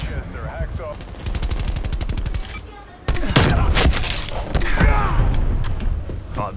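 Gunfire in the video game Call of Duty Black Ops Cold War: a rapid burst of automatic shots, a short pause, then heavier bangs and clatter, loud and close.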